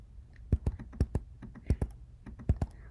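Computer keyboard typing numbers into costume fields in a Scratch game project, a short run of light, irregular key clicks at close range.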